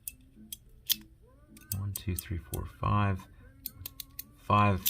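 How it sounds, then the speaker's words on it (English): A PEI "Ding Ding" fidget slider by 9-Hands EDC clicks through its magnetic detents, giving crisp, close, scattered snaps in short runs, with brief bursts of voice between them. "10 clicks in either direction, but you get 5 clicks per layer"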